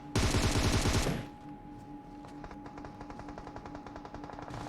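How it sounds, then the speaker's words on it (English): Automatic gunfire in PUBG Mobile during a tournament match, a loud dense burst of rapid shots for about a second, then quieter distant rattling fire continuing steadily behind it. "As we see shots being fired."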